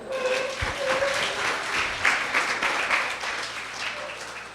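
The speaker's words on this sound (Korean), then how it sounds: "큰 박수로 맞이할게요" A church congregation at a community worship service claps to welcome a seventh-grade student speaker, giving a sustained, even wash of applause from a room full of people, moderately loud with no talk over it.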